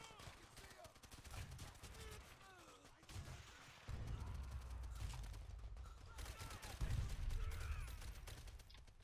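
Bursts of gunfire and mechanical clatter in the World War II shooter Call of Duty: World at War, steady battlefield shots with heavier thumps building toward the end, quiet overall and mixed with faint background voices.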